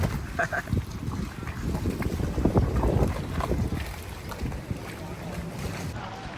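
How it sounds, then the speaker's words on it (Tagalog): Strong wind buffets the microphone during a motorboat ride through the Hundred Islands, a loud rushing roar mixed with the boat's engine and water noise that eases slightly toward the end. "Ang lakas ng hangin dito"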